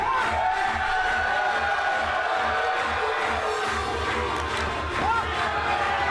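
A wrestling crowd at a 12-man rumble match roars and cheers steadily throughout, with whoops rising over the din, while a commentator talks over the noise.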